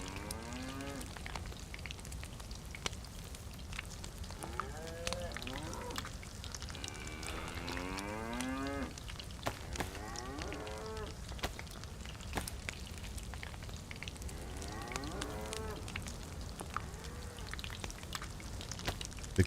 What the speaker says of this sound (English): The cows sometimes sound like they are attacked.